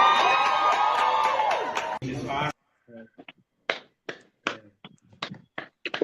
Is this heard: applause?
yes